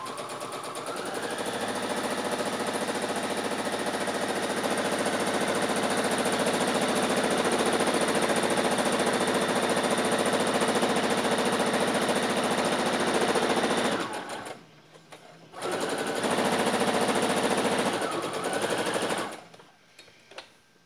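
A sewing machine runs steadily, stitching long basting lines across the gathered skirt of a backless frock. The whirring is close and continuous, then stops briefly, starts again for a short burst, and fades out.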